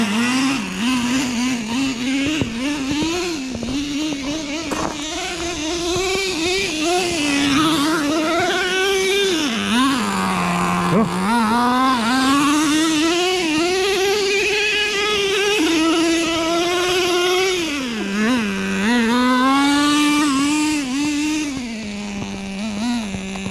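A Traxxas T-Maxx nitro RC truck engine screams at high pitch, its throttle lagging as the revs rise, fall and waver repeatedly in uneven bursts, loud and close with no talking.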